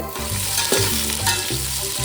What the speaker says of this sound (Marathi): खडे मसाले छान परतून घेतल्यानंतर त्याच्यामध्ये जाईल आता हा उभा पातळ चिरलेला कांदा.